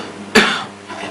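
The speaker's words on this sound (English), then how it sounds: "lastly we can ask the patient to cough." A single short, forceful cough from a patient during a medical examination, close to the listener, with quiet room tone before and after.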